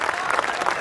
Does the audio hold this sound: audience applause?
yes